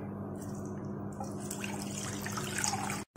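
Half a litre of full cream milk pours steadily into a kadai already holding a little water, a continuous close liquid splash and trickle that stops abruptly at the end.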